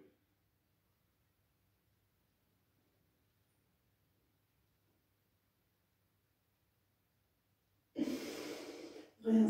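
Near silence for most of the stretch, then a person breathes audibly close by, a loud breath in and out at the very end during a guided breathing exercise.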